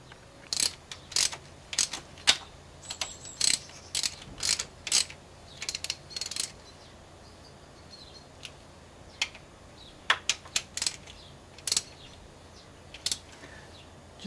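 Ratchet wrench clicking in short bursts while the thermostat housing bolts on a car are snugged up, close and crisp, with pauses between strokes and no talking.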